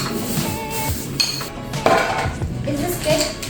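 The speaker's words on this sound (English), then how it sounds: "Alright, you keep stirring." Chicken and chorizo pasta stirred in a pot, with metallic clinks and scrapes of the utensil against the sides at close range and a voice faintly in the background.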